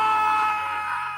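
A single drawn-out human-like scream sound effect for a homemade 2D video game rings out loud and steady for about a second, easing slightly toward the end.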